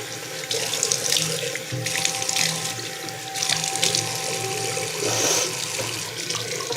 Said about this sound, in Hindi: अब नाक में पानी डालेंगे 3 मरतबा